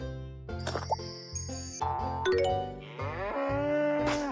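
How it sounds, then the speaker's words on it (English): A cow moos in a long, drawn-out low call beneath bouncy chiming music and bell-like dings. "Cow."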